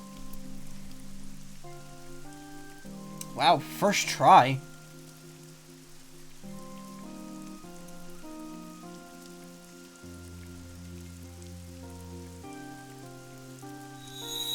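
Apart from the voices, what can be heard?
rain falling in video game AI: The Somnium Files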